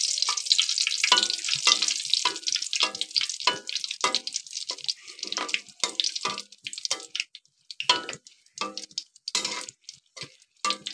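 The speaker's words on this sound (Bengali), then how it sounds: "এখন আমরা কিছু শুকনা ঝাল দিয়ে দিব, এগুলো লাল করে নিব।" Dried red chillies fry in hot mustard oil, giving a crackling, spitting sizzle in dense bursts that slowly thin into scattered pops, close and steady with no voices.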